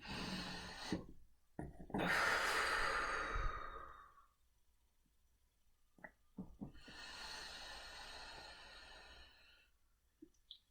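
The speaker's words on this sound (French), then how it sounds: "Prenez 3 grandes respirations profondes." Deep breaths during a guided breathing exercise: a long, loud exhale followed by a quieter stretch and another drawn-out breath, close to the listener, with a few soft clicks between them and no talk.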